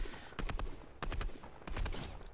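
Gunfire in the Fortnite video game, with three quick clusters of rapid sharp shots over a low background hum.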